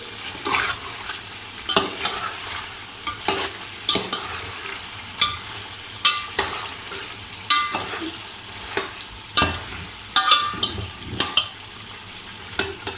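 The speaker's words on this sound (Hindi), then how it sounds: "अब इसे एक मरतबा सिर्फ मिक्स करेंगे।" Chicken roosh being mixed in a frying pan: a steady sizzle of frying runs throughout, broken by a dozen or so regular, close spatula scrapes and knocks against the pan, with no talk.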